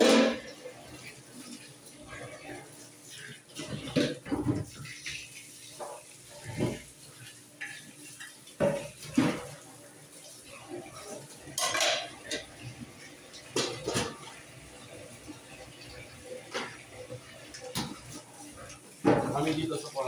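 Greasy pots and dishes clatter in a sink with running water, scattered knocks and scrapes, close by, while a person talks throughout.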